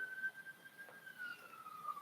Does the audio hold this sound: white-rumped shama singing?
no